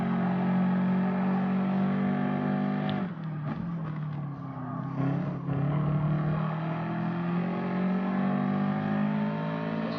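A Subaru WRX race car in Gran Turismo Sport holds a loud, steady high engine drone, dipping briefly around a gear change or corner before climbing back to full revs.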